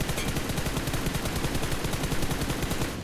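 Rapid automatic gunfire from the battle royale game BGMI, a dense run of quick repeated shots filling the whole stretch at steady loudness with no voices.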